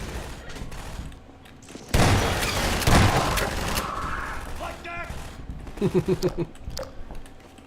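A sudden loud burst of gunfire in the Half-Life 2 video game, a dense volley followed by a short run of rapid rhythmic shots over game ambience, with a faint voice in the background.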